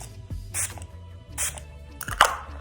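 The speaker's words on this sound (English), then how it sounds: "Just spray it to refresh it." A few short hissing bursts of makeup setting spray from a drugstore bottle, three quick sprays spaced about a second apart at close range, with faint handling noise between them.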